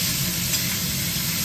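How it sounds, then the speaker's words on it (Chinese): Minced lean meat stir-fries in a hot pan, giving a dense, continuous loud sizzle with no voices over it. "先把肉末炒一下。"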